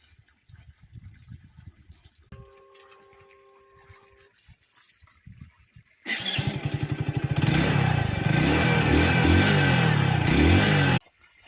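A Hero HF Deluxe commuter motorcycle engine starts up after some quiet clicking and a short tone, then settles into a loud, steady, close-up putter with a rapid even thump that holds for several seconds before cutting off.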